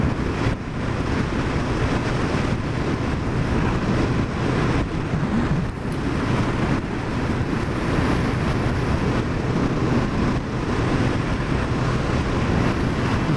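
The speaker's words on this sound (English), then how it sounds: "So it's windy tonight." Strong wind blows at night, buffeting the microphone with a steady, loud broadband roar and low rumble, without let-up and with no voices.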